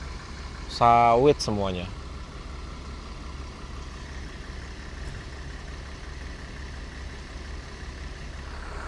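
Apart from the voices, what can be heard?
Golden Dragon bus engine running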